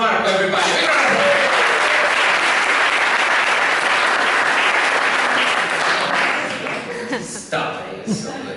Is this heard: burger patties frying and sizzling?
no